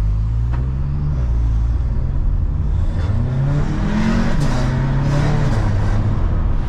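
A 500 hp turbocharged VW Passat with a large turbo and an open exhaust accelerates hard, its engine note climbing loudly, dropping at a gear change and climbing again in a continuous, close roar.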